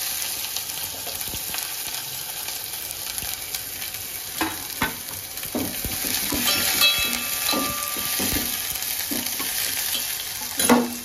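Garlic, curry leaves and onion hit hot oil with mustard and cumin seeds, giving a bright continuous sizzle and crackle up close, punctuated by scraping stirs of a spoon against the pan.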